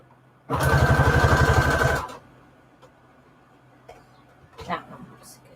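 A sewing machine runs a straight stitch in one quick, loud burst of rapid, even needle strokes lasting about a second and a half, then stops, leaving small handling noises nearby.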